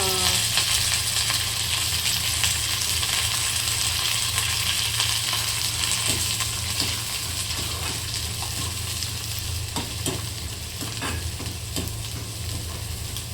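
Garlic, onion and curry leaves frying in a pan for a Maharashtrian shev bhaji, a loud steady sizzle with scraping and stirring clicks close by.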